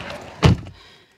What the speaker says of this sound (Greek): Απλά την πόρτα πρέπει να κλείσω μόνο.